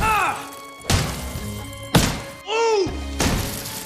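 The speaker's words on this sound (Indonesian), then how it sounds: "Josh mengambil tongkat golf dan memukulnya ke mobil mewah Mr. Xiao sehingga semua kacanya pecah." A golf club swung into a luxury car, smashing its glass: a series of heavy thuds and whacks with crashing, shattering bursts, several sharp impacts spread out and loud, without talk.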